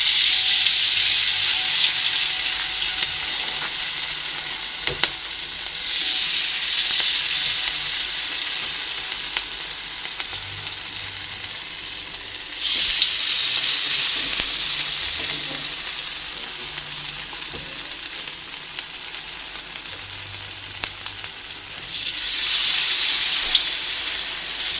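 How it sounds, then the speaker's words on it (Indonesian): Bakwan vegetable fritters deep-fry in hot oil, a steady close sizzle and crackle that swells louder in waves as batter goes in, with occasional soft clicks, no voices. "Langsung aja saya mau menggoreng bakwannya teman-teman."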